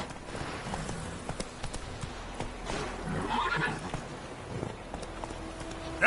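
Roach, Geralt's horse in The Witcher 3 video game, whinnies and clip-clops steadily across ground, hooves close and clear over low game ambience, with no talk.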